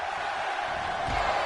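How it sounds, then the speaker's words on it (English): A wrestling crowd in Chicago cheers and roars as one continuous wall of noise, with a commentator's voice talking over it. "And the crowd here in Chicago getting behind Nikita."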